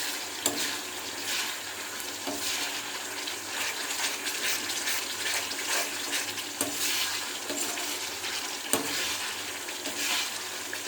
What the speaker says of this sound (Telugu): మనకి అల్లం వెల్లుల్లి పేస్ట్ బాగా వేగింది.